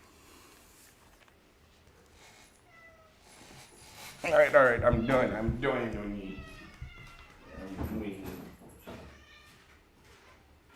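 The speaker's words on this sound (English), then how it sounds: "let me give my cats their food" Domestic cats meowing at feeding time in a house, a loud burst of drawn-out, wavering meows and yowls in the middle, with a person talking quietly before and after and cupboard-like knocks around.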